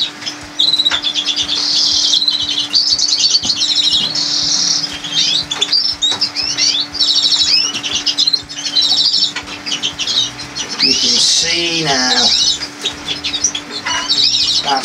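Canaries chirp and flutter while being handled for sexing during breeding season, with bright, continuous twittering and wing flaps close by, and a steady low hum underneath.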